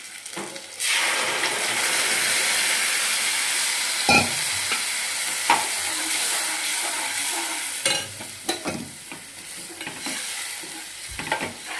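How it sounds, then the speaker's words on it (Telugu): Curd is added to a hot oil tempering, giving a steady loud sizzling that fills the scene, with a few sharp clinks and scrapes of a spoon stirring in the pan. "వీడియోలో చూపించిన పెరుగుని తాలింపులో వేస్తున్నానండి"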